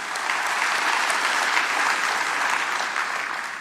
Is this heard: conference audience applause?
yes